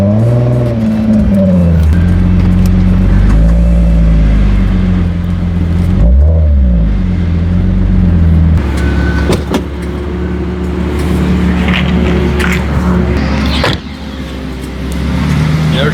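A red Nissan 350Z drives and pulls in to park, its engine humming loud and close with shifting revs and gear changes, easing down as it slows to a stop.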